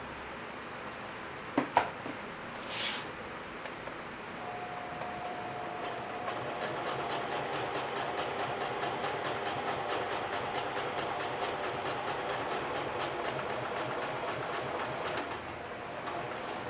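An industrial sewing machine runs steadily while top-stitching along a denim watch pocket, a faint, even mechanical whir with rapid regular ticking, preceded by a couple of brief knocks and a short rustle.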